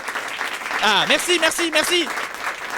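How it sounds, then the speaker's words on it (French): A single person applauding, scattered claps running under a nearby voice that speaks briefly throughout. "Ah, il y a vraiment un gars qui applaudit."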